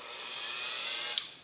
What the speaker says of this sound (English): I would put a little flitz on there with my little Dremel